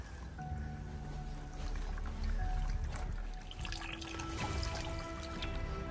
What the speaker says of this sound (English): This all drips out.